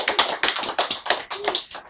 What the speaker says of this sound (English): A big round of applause for you.